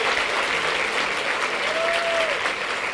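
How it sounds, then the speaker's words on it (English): A large audience gives a long round of applause while standing. Dense, steady clapping fills the room, with a faint tone and crowd murmur beneath it. "let's give them a really large round of applause"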